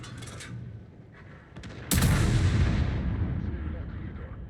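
In a tank video game, a single heavy artillery shot lands after quieter clicks and rumble, a sudden loud boom that rolls off into a long, fading echo.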